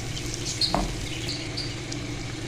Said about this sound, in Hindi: जब तक हमारा मसाला भून रहा है